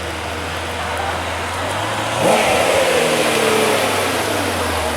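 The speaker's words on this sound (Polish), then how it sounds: "w końcu przyjechał jeden fajny samochód" A car pulls up with a steady engine hum, then revs sharply once, the sound swelling loud and close before settling back into a strong running drone.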